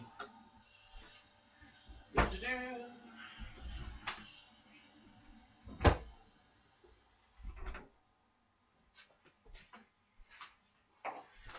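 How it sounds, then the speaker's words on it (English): Someone closing a bedroom door at home, a few knocks and bumps of handling ending in a solid thud around midway, followed by faint rustling in a quiet room. "I am going to close my door real quick so I can dampen the volume"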